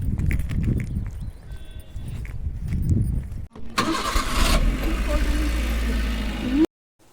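A car engine cranks and catches, then runs at a steady rumble, close by, with people talking over it before it cuts off abruptly.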